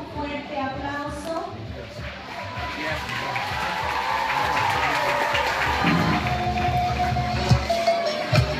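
A crowd applauds and cheers the president at a school handover ceremony for Escuela Calle Mesén in Cartago, the broad clapping noise steady throughout and mixed with voices.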